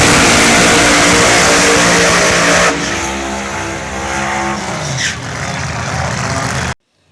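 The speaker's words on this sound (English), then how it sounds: "They wet the track so the tires spin." Race car tires spin hard on a deliberately wetted track to build heat, with a loud engine roar and tire noise that drop after a few seconds, then a sustained howl that cuts off sharply near the end.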